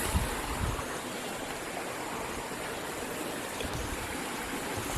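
Stream water rushing steadily along the Race Brook Falls trail, a dense continuous wash of flowing water, close and even in level throughout.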